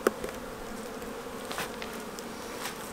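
A dense, steady hum of many honeybees buzzing close together inside a hive in winter, soft and continuous with no voices.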